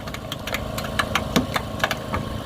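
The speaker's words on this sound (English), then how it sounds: "You hear all the material being crushed." Hydraulic rescue cutters crush and bite through the metal of a Daihatsu Charade in a fire service demonstration, giving a steady mechanical grinding drone broken by sharp cracks and creaks, close and continuous.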